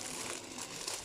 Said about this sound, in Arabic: مغطيها بكيس، كيس نايلون كده